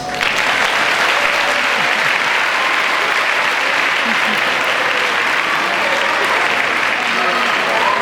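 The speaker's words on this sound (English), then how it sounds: "give your parents a round of applause" A large crowd at a high school graduation claps loudly and continuously, a dense, even wash of applause lasting several seconds.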